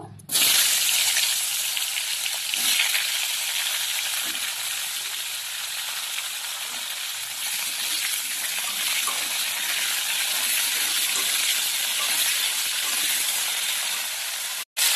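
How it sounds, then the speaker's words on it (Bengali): Cauliflower and potatoes frying in oil already used for frying fish, a steady, loud, close hissing sizzle that runs unbroken with only slight swells in intensity. "এবার আমি মাছ ভাজা তেলেই আমি ফুলকপি আর আলু ভেজে নেব"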